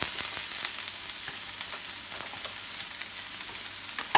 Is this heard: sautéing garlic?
yes